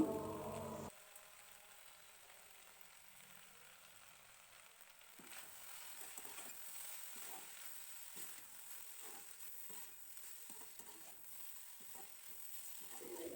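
Spiced mixture with mustard powder frying in a pan, a faint steady sizzle broken by repeated soft stirring scrapes, after a brief louder sound at the start.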